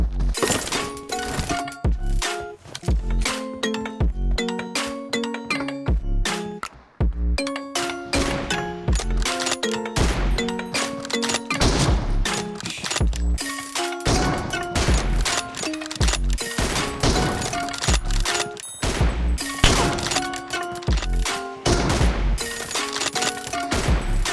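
Rapid bursts of gunfire and weapon reports from a mobile shooter game crackle densely throughout, with music-like tonal layers and impacts mixed in, loud and continuous.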